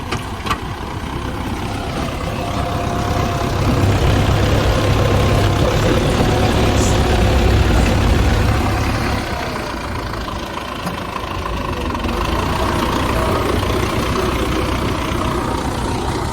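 A Russian tractor engine idles at a bridge construction site in Dadyal, Azad Kashmir, giving a steady low rumble with a slight knock that swells louder midway and then settles, continuous throughout with no talk.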